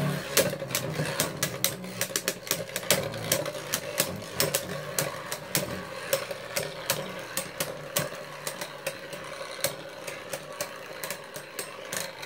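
Beyblades Brave Valkyrie and Mirage Fafnir clash in a stadium, a steady whirring spin punctuated by rapid, sharp clicking collisions throughout.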